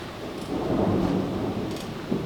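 A thunderstorm rolls outside with heavy rain, a steady wash of rainfall under a low, swelling rumble of thunder that builds and fades, no voices.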